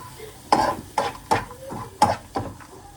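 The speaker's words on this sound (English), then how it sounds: "We're adding a bunch more butter, just to be safe." A utensil stirring butter in a pan while making a Dubai chocolate cheesecake, with five or six evenly spaced scraping strokes over a faint background sizzle, close up and without talking.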